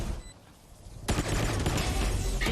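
Gunfire in Valorant during a pro match: a sudden burst of rapid shots rings out partway through after a quieter stretch, loud and dense, then continues as a sustained clatter.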